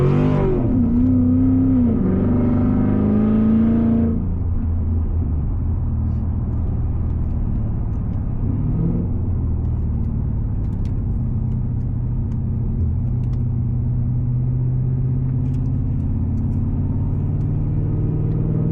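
A modified Cadillac CTS-V accelerates with a rising, throaty rev, then settles into a deep, steady rumble as it cruises, heard from inside the cabin with no talk.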